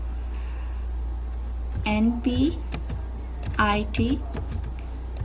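Several short bursts of typing on a computer keyboard while a C++ program is written, quick light clicks under a voice speaking Hindi, with a steady low hum behind.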